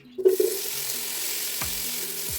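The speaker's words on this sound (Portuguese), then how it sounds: "a gente vai colocar um pouquinho de azeite e logo após a gente já vai colocar o bacon" Bacon dropped into hot olive oil in a pan, an initial burst of crackles settling into a steady, close sizzle of frying that holds throughout.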